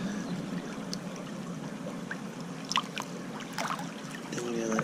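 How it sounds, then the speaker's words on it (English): Water swishes and sloshes in a gold pan held in a city creek, a soft broadband wash over steady stream flow with a few brief clinks and splashes, close and moderately loud. "Then you gotta swish it."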